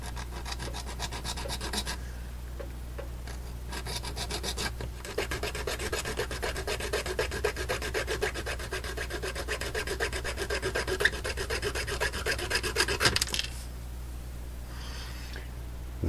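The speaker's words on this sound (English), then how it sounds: "This is just a little X-Acto saw blade, and it fits down in there nicely." A small X-Acto saw blade rasps back and forth on plastic inside a cheap model train gondola, close and steady, with brief pauses between bursts of fine scraping strokes.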